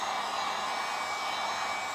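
A heat gun blowing hot air over a fresh epoxy resin pour, a steady, fairly quiet broadband whoosh with no variation, heard alone.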